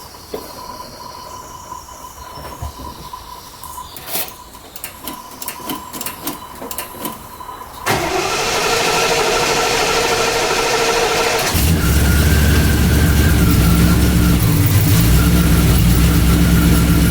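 A Triumph Stag engine on full choke, first a few seconds of clicks and mechanical noise, then a loud steady whoosh, and finally a deep continuous rumble as it settles into idle, with no talking.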